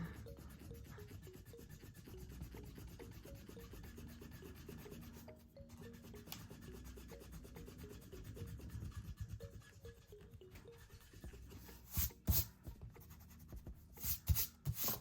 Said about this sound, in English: If you are going to highlight something and you mess it up, you can erase with this set.